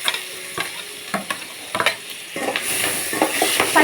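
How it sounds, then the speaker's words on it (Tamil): Vegetables (potatoes, beans, carrots) frying in a little oil for Maggi noodles, with a steady close sizzle broken by repeated scraping stirs of a spoon in the pan, growing louder toward the end. "இப்போ நம்ம வெஜிடபிள்லாம் வந்து நல்லா கிண்டிக்கலாம்."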